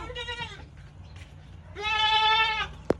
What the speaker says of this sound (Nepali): यता बाख्रा छ।